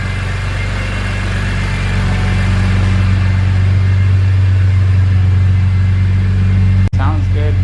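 A BMW E46 M3 idles with Yonaka rasp pipes fitted, giving a steady, loud, deep rumbling drone close by that holds evenly throughout, with a brief knock or click near the end.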